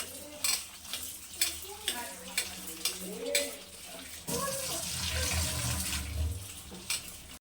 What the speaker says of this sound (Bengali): এখন আমি এই জলটাকে ফেলে দেবো, আর সোয়াবিনটা ভালো করে ধুয়ে নেব